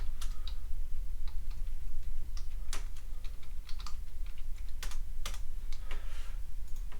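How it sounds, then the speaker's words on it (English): Arrow keys on a computer keyboard being tapped in irregular bursts of close, crisp clicks, some quick doubles and brief pauses, over a low steady room hum. "I moved around with the arrow keys."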